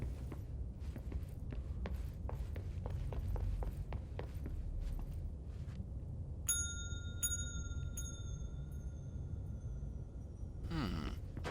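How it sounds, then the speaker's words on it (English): A bell rings in the video game Control, with about four clear, resonant strikes between roughly 6.5 and 9 seconds. Each strike's tone lingers over a steady low ambient rumble, with faint footsteps earlier and no talking. "I guess we're ringing the bell."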